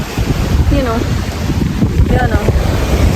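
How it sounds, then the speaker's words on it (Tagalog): Strong wind buffets the microphone in loud, continuous gusts by the sea, with brief faint voices underneath. "malakas yung hangin dito"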